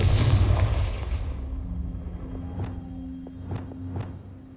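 A Confringo explosive spell in Hogwarts Legacy lands with a heavy rumbling blast that fades out. A few sharp, lighter impacts and a faint hum follow.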